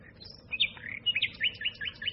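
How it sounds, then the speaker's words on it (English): A sparrow chirps early in the morning, a quick run of bright, repeated tweets close by over a quiet background. "That bloody sparrow."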